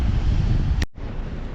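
Strong wind sweeps sand across a beach in Denmark, a loud, close roar of gusts buffeting the microphone that cuts out briefly and then resumes.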